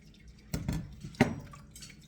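Water drips and squelches faintly from cooked spinach pressed in a kitchen strainer, a few soft wet drops and squishes against a quiet background.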